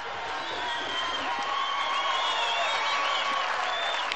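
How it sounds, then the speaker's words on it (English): At an IRB Nations Cup rugby match between Romania and the Argentina Jaguars, a crowd cheers a try with applause and whoops rising to a sustained roar, heard at a distance. "Well, that's got the crowd going."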